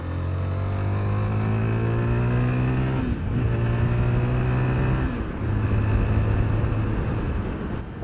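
A Zontes 350GK single-cylinder motorcycle is ridden with the engine droning loud and steady, its pitch climbing through the revs, easing off twice for gear changes and then pulling up again.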